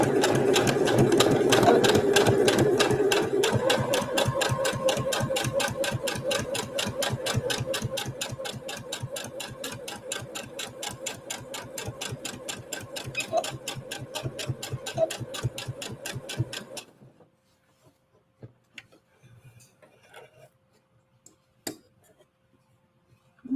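A sewing machine runs in fast, even stitching bursts while a hat is being made, a loud rhythmic mechanical whir and tick that continues for about seventeen seconds, then stops, leaving near silence with a few faint clicks.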